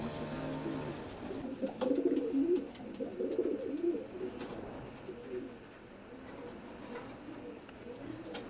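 Racing pigeons coo softly in low, repeated warbling calls, fairly close, with faint clicks and rustles around them.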